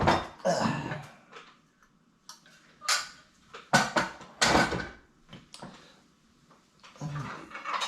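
Cheap high-end dishes and plates bought at an Elks Lodge fundraiser sale being handled, with several sharp clinks and clatters of ceramic separated by short pauses, close by and fairly loud.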